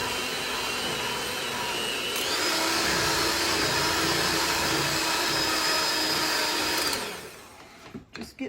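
A powerful electric mixer beats chocolate cream cheese pound cake batter, a loud continuous whir that steps up in speed partway through, then winds down and stops with a few clanks of the bowl.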